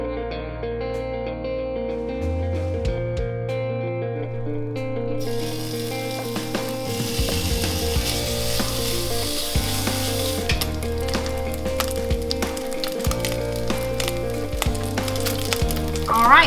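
Chopped bacon sizzling in a pan, a steady frying crackle that runs throughout beneath a constant musical backing.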